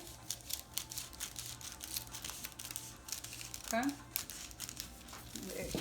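Fabric being trimmed even on a bustier yoke, with soft crinkling and cloth handling throughout, a brief sharper snip near the middle, and low talk in the background.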